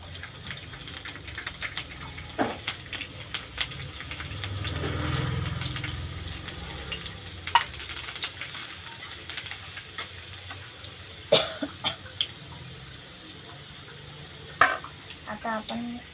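Cumin seeds and garlic frying in hot oil in a pan for methi bhaji, a soft steady sizzle with occasional clinks and scrapes of stirring, a voice talking briefly in between.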